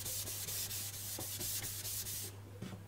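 A whetstone being cleaned by rubbing after sharpening VG10 steel. Rhythmic gritty strokes repeat about five times a second, close and steady, then stop abruptly near the end, over a low constant hum.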